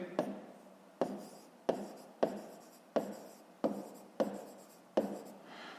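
A pen writing by hand on paper during a fifth-grade maths exercise, a series of scratchy strokes with sharp taps roughly every half second to second, close and quiet, with no speech.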